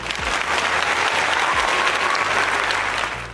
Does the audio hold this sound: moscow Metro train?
no